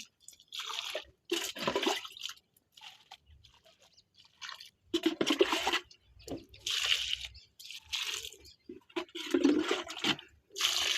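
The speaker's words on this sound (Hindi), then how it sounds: "अब हम इसमें गड्ढों में जीवामृत डालते हैं।" Liquid jeevamrut fertilizer poured into dug pits, heard as repeated splashing gushes of liquid in separate bursts with short pauses between, close by and with no one talking.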